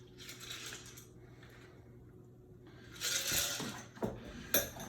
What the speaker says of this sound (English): We're gonna strain it right into our rocks glass.